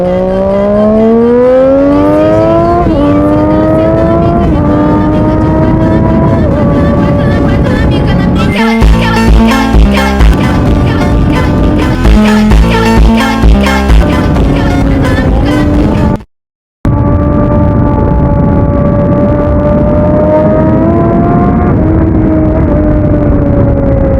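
A Triumph Daytona 675 inline-three motorcycle with a loud exhaust revs hard at full throttle, its engine note climbing in repeated rising sweeps. The sound is very loud and close, with choppy bursts in the middle and a brief cutout before the revving resumes.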